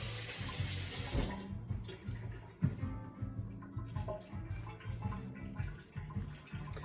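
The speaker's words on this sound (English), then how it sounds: "Wash your hands or wet your hands." Tap water runs steadily into a kitchen sink as hands are wetted before rolling meatballs, a continuous close splashing that holds throughout with a brief burst near the start.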